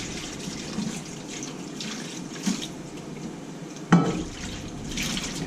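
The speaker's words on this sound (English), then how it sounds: "when the water is like lukewarm, I pour it in there and it tightens the shrimp a little bit." Lukewarm water running and pouring over shrimp in a sink, a steady close splashing flow with a brief louder clunk partway through.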